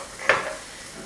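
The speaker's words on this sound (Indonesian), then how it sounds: "Kita aduk." A single quick stir of vegetables frying in a pan with sesame oil, one brief scrape and sizzle burst up close, then a soft fading hiss.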